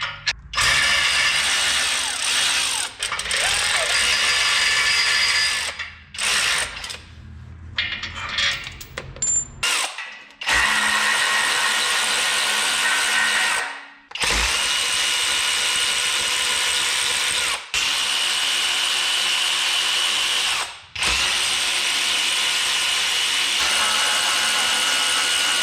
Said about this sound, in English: gonna start by trying to get the header undone from the rest of the exhaust